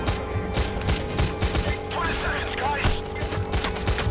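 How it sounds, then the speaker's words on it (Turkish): Gunfire in the game Payday The Heist, with bursts of sharp shots in an irregular, clustered rhythm over a steady background hum, fairly close and loud. "Maşallah vuruyorlar ya"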